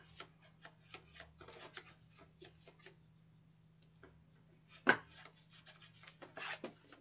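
A bone folder rubs along the inside of a folded paper box, giving soft scraping strokes in short repeated bursts, close and fairly quiet, with a faint steady hum underneath.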